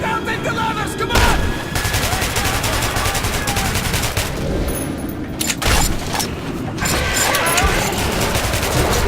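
Sustained, dense gunfire from a firefight in Metro Redux, bursts and heavy booms layered continuously for about nine seconds, loud and close, with brief shouted voices mixed in.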